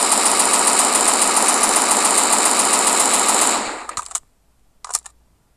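A rapid, continuous burst of loud automatic gunfire from a video game weapon that cuts off abruptly, followed by a couple of brief clicks and a short mechanical blip.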